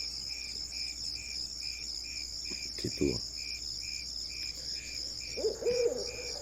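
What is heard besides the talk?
crickets chirping at night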